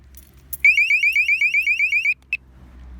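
A home motion detector alarm, triggered, warbles loudly in a fast repeating chirp pattern for about a second and a half, followed by a single short beep.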